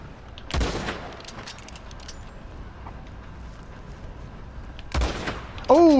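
Gunfire from Red Dead played on console, during an online fight with a griefer posse: two sharp, loud gunshot bursts about four seconds apart over low game ambience, with an excited voice breaking in right after the second.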